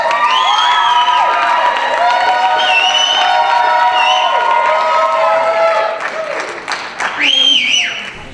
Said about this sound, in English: Keep your applause going for our next contestant,